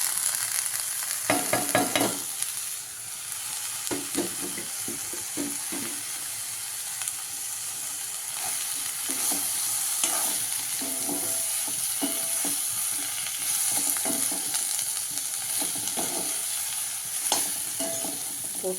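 Chopped baby jackfruit pieces sizzle and crackle in a hot pan, with intermittent scraping and stirring sounds throughout.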